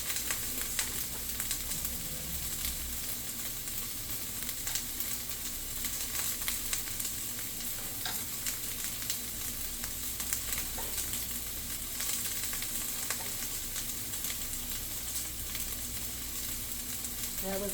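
BBQ tofu sizzling on a grill while being basted with barbecue sauce, a steady, close crackling fry with faint scrapes throughout.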